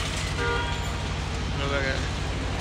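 A car pulls up on a road with a steady engine drone and a brief horn-like toot, while people talk nearby over the traffic.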